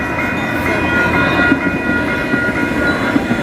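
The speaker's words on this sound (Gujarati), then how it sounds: "આ ટ્રેન આવી ગઈ. જો સબવે." A subway train passes a closed level crossing in Waterloo, Canada, its steady loud rolling rumble and wheel noise close by and continuous, with faint clicks of the wheels on the track.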